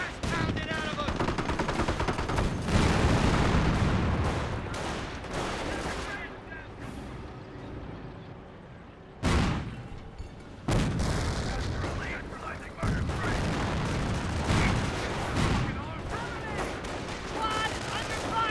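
Machine-gun fire in the World War II strategy game Company of Heroes: rapid, loud bursts of automatic shots mixed with heavier battle booms, running almost continuously with brief dips.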